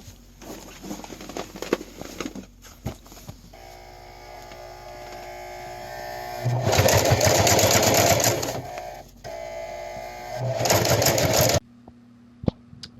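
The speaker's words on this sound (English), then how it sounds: "So we were having a lot of trouble here with our sewing machine." A Sailrite sewing machine hums steadily, then runs in two louder stitching bursts of a couple of seconds each, with a brief pause between, before stopping.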